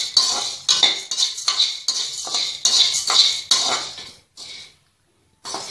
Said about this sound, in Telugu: మీడియం ఫ్లేమ్లో వేయించాలి.